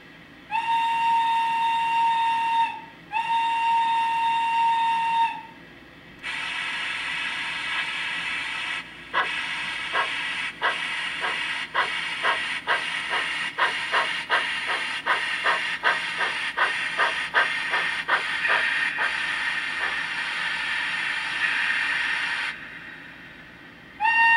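Steam locomotive sound from a SoundTraxx Tsunami decoder in a model train, small steam profile: two long whistle blasts, then a steady hiss with rhythmic chuffing exhaust beats that quicken, ending in a hiss, with no talking.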